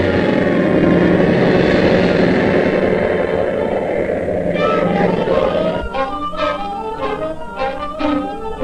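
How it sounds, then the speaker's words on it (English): Low-flying fleet of crop-dusting airplanes spraying insecticide over farm fields, a steady loud propeller-engine drone that shifts into a pulsing, wavering roar as planes pass close. "a fleet of airplanes dust his crops with insecticides at the rate of an acre per plane per minute"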